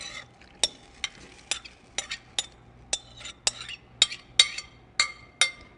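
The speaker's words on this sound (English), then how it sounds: "in goes my coleslaw, and I'm making sure that I get all the liquid" A spatula stirs leftover Asian coleslaw with its liquid into a pan for a pork and cabbage stir-fry, giving a steady run of crisp metallic clinks and scrapes about twice a second, close by over a faint sizzle.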